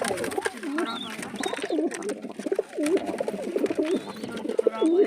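Pigeons, including a caught bird and a paired couple, coo in repeated low throaty phrases, close and fairly loud, with faint chirps above and occasional voices in the background.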